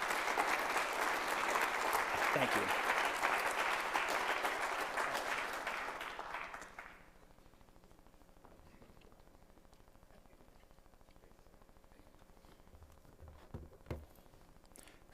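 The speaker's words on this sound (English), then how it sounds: "Let's give all of the cadre a hand of applause." Audience applause at a university ROTC commissioning ceremony, sustained dense clapping for about seven seconds before fading out, followed by a quiet room with a brief spoken thanks and a small knock.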